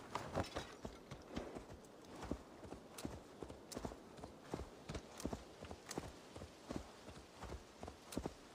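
Horse hooves clip-clopping at a steady walking rhythm in Assassin's Creed Valhalla, a close, even run of sharp thuds from start to finish with no talking over them.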